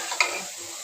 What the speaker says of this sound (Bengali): এখন হচ্ছে ঘুমনি মশলা কষা হচ্ছে